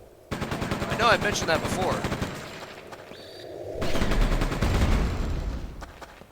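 Rapid repeated blasts from the double-barreled super shotgun in the Quake II Ground Zero game, loud bursts in two clusters separated by a brief quieter gap, with someone talking over them.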